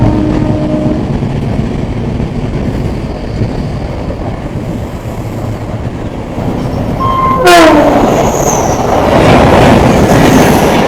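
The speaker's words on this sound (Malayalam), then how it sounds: "ഇതൊരു DG4 എറണാകുളത്തിൻ്റെ അങ്ങനെ ഷണ്ടിങ് ചെയ്തുകൊണ്ടിരിക്കുന്നത്." A DG4 diesel locomotive shunting at Ernakulam rumbles steadily in the distance, then metal wheels squeal loudly against the rails with rising screeches over the continuing rolling noise.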